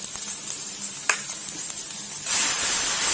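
Prawn curry paste hitting a hot pan: a constant sizzle with faint stirring clicks, swelling into a louder, brighter hiss partway through as the frying intensifies, close up and with no talk.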